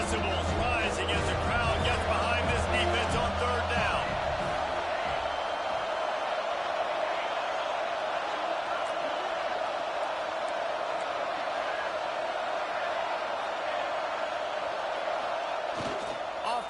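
Steady stadium crowd roar builds and holds throughout a College Football 26 game, with a Florida State dynasty matchup in progress, dense and continuous with some thumps early on.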